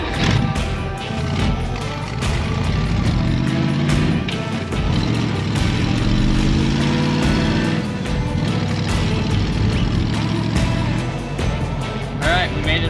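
A rat rod's engine drones loud and steady from inside the car while it drives on the road, with rattles and knocks over the drone throughout and occasional talk underneath.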